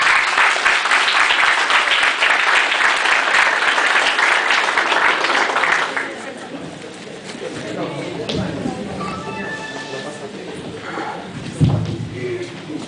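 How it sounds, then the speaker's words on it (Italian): Audience applause of encouragement at a school celebration for the 150th anniversary of Italian unification, steady and loud for about six seconds, then fading into murmuring crowd noise and scattered voices. "Un applauso anche di incoraggiamento."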